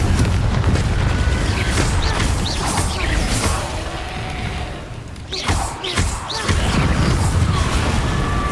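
Confringo fire spell explosions in the Hogwarts Legacy video game, loud booming blasts with crashing debris and a roar of fiery rumble, several bursts close together with a brief lull in the middle.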